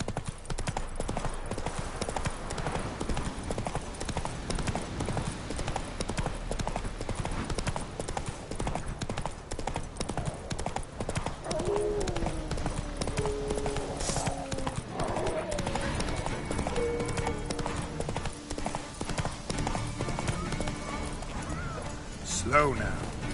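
Roach, the horse in The Witcher 3: Wild Hunt, gallops with a rapid, steady clip-clop of hooves under near-constant spoken dialogue and game ambience.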